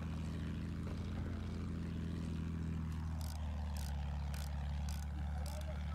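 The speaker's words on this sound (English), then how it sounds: "Two planes up." Propeller aircraft drone steadily overhead in Battlefield 1, a low continuous engine hum with faint voices and scattered bursts in the background.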